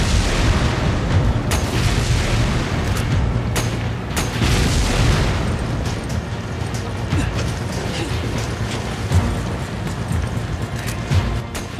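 Containers blow apart in the video game Resident Evil 5, inside an experimental facility, with loud booming blasts and sharp bursts over a constant mechanical rumble, the heaviest impacts landing in the first few seconds.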